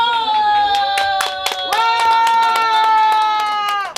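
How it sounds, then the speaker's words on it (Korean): An outdoor crowd at Songhae Park in Daegu claps in a dense burst of sharp hand strikes, while sustained music tones ring beneath the applause throughout. "자, 박수와 함성!"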